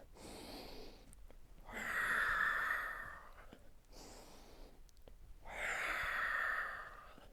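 A Pilates instructor breathing audibly during a posture workout on a mat, slow loud breaths in and out in two long cycles, each a drawn, breathy rush close to the microphone.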